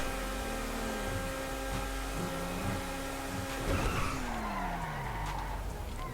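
Tires skid and squeal as a Vysser Neo sports car slides around corners in GTA 5 Online, long wavering screeches over a steady engine drone, loud and continuous with no talking.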